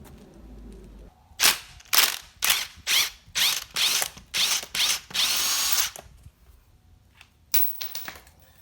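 Impact drill zipping bolts off the front suspension of an 8th-gen Honda Civic Si (FG2) during a spring swap: a run of about eight short, loud rattling bursts in quick succession, then a brief pause and one more burst.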